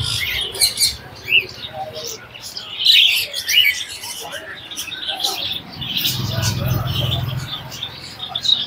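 Exotic pet birds chirp and tweet in a pet shop at a Kolathur market, with bright scattered calls coming and going while people talk nearby.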